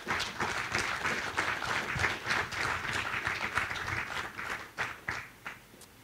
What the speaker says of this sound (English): I hope that we can give a round of applause to those who have allowed the logistics to happen